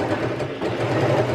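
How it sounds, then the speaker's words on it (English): A sewing machine stitches in a steady, fairly loud close-up hum with a dense rapid chatter, running continuously without pause. "A little background noise. What am I doing? I'm sewing."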